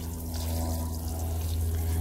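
Newly planted garlic in a garden bed is watered, a steady, soft pour of water running continuously under a low background hum, with no talking.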